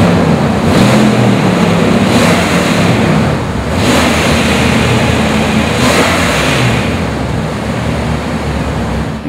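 A 2002 Jeep Wrangler 4x4 Sport's engine runs steadily close by, a continuous loud rumble with a few gentle swells in revs and no talking over it.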